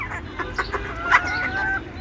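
Desi (native) hens cluck in short bursts close by, with a sustained higher call near the end and no talking.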